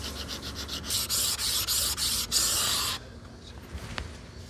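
An old Japanese straight razor ground back and forth on a sharpening stone: loud, harsh abrasive strokes in a steady rhythm, close up, stopping abruptly partway through with only faint handling noises after.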